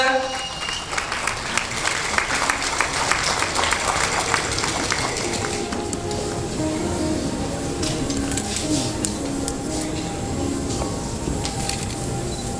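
A conference audience at an international colloquium applauds: thick, continuous clapping that fills the room at a steady level, with voices mixed underneath.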